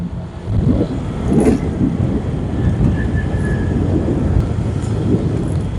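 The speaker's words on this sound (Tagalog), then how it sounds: "Daming sasakyan guys, oh." Steady rumble of heavy road traffic with many vehicles passing close by on a hot day, a continuous low roar with brief swells as individual vehicles go by and a faint whine in the background.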